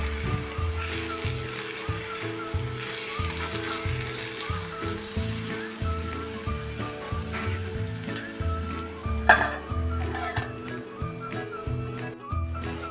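Safflower leaf greens salted and cooking in a pan, stirred as they go: a continuous frying sizzle with repeated low scraping and thumping strokes from the stirring, fairly close and without talk.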